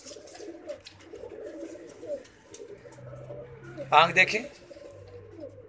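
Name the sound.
pigeon cooing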